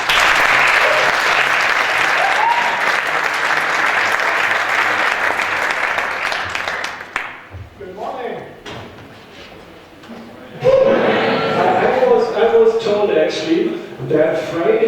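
Loud, dense applause from a conference audience greets a keynote speaker on innovation, filling the first seven seconds before fading as a voice begins speaking, with another brief burst of clapping rising under the talk later.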